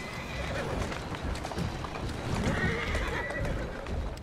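A horse in Assassin's Creed Syndicate clip-clops steadily along, with rhythmic hoof beats over a rumbling street background and a neigh breaking through, close and fairly loud throughout.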